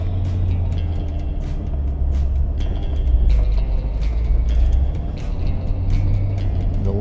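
A 2015 Chevrolet Corvette pulls away from a standstill up a snowy hill, heard as a low engine rumble from inside that swells and eases, with repeated clicks and knocks over the drone.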